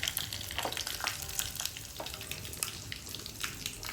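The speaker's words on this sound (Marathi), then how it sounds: "मोहरी आणि कढीपत्ता. छान तडका तयार झालेला आहे आपला." Mustard seeds and curry leaves with chilli, cumin and jeera sizzle in hot oil for a dal tadka, a steady close crackle with scattered pops running throughout, no talking.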